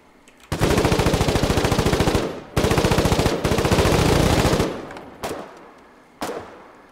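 Heavy rooftop machine gun in the war game Foxhole fires long, loud, rapid-fire bursts, pausing briefly between them, then two single shots echo apart at close range.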